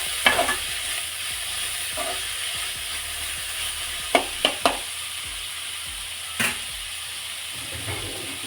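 Cluster beans (gorikayi) frying in oil in a pan, a steady soft sizzle broken by a few sharp clinks and scrapes from stirring, with no talking.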